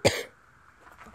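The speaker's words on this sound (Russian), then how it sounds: "Покашляю." One short, sharp cough comes from a person standing beside an ancient linden tree at Himmelsberg in Germany, followed by quiet outdoor ambience.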